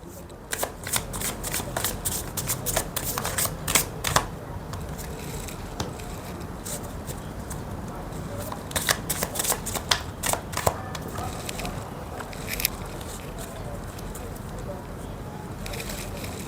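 Cards are shuffled repeatedly in quick riffling bursts, close by, with short pauses between shuffles over a low background hum.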